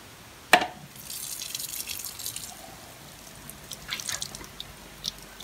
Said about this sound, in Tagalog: Ayan o, ang lakas ng tulo.